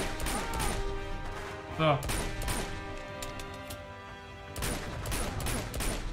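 Warning shots ring out in the Uncharted 2 video game, a series of sharp gunfire cracks and clattering impacts over a steady game soundscape, with someone talking briefly over them.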